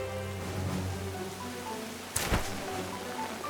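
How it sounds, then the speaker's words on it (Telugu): Rain falls in an animated Pokémon episode as a steady, soft hiss under a tonal musical background, broken by one brief, sharp splash-like burst midway. "వాన పడుతుందా?"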